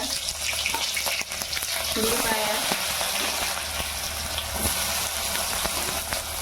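Cumin, green chilies and onion frying in hot oil, a loud close continuous sizzle with crackles and stirring scrapes, steady from start to finish.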